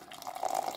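Hot water pours from a kettle into a cup to make a strong drink, a close, steady trickling stream that grows slightly louder as the cup fills, short and alone without talk.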